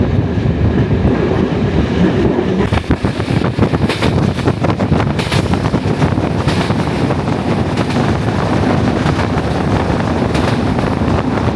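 A passenger train runs through mountains in Bulgaria, its steady loud rumble of wheels and carriages carrying on throughout with gusts of wind buffeting the microphone and sharper clanks along the rails.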